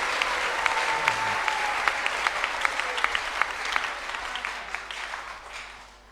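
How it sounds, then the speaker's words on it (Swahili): A church congregation applauding during a Sunday service, dense sustained clapping with a few sharper claps standing out, fading away toward the end. "Vous pouvez l'applaudir."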